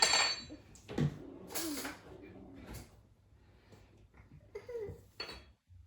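Children eating at a table, spoons and knives clinking and scraping against dishes in a few scattered bursts, with soft voices and background chatter between the clinks.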